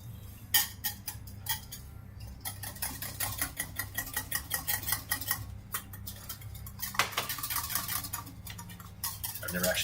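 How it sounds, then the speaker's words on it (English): A whisk clinks steadily against a bowl while a sauce for ratatouille is beaten to emulsify it, a close, busy metallic rattle with quick irregular strokes and no talking. "And the more you whisk, it kind of emulsifies it."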